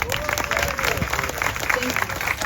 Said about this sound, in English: Can I get another round of applause for them?